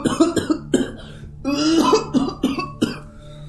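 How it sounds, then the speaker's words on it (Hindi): Several people coughing hard in a car filled with smoke, repeated harsh bursts overlapping with throat clearing, close and loud. "और सब खांसने लगे।"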